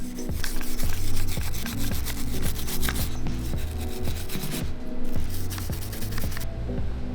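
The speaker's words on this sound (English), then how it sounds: "we'll just take a nice soft wire brush and we'll just clean up the rest of the carbon" Soft wire brush scrubbing carbon deposits off the top of an engine piston during a Land Rover engine rebuild, giving steady, close, busy scratching strokes in quick repeated passes with no talking.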